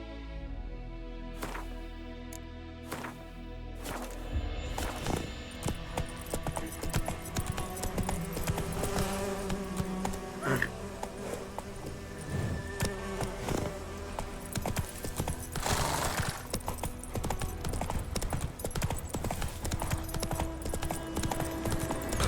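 Hoofbeats of Geralt's horse Roach in The Witcher 3 video game, a steady clip-clop gallop that runs close and loud for the whole stretch over layered game music and ambience, with a short burst of sharp strikes near the start.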